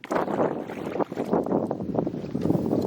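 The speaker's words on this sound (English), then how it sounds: "I can hear the breeze picking up" Gusty wind buffets outdoors on a wilderness lake in uneven swells, rising and falling over a few seconds, with water lapping faintly beneath.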